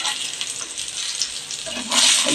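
Mixed millet tikkis fry in a pan with a steady, bright hiss of sizzling oil that swells briefly louder toward the end.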